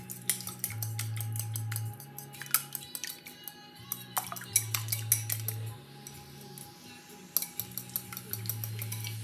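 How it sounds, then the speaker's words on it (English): Two eggs beaten together in a bowl, with rapid clinking utensil strokes against the dish in repeated bursts over a steady low background hum. "we're just going to beat together our 2 eggs"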